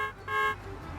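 A car horn in the driving game Motor Town sounds a short double honk at a stop sign, two brief toots close together over steady engine and road noise.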